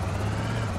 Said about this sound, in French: Il y a l'hélicoptère les potes.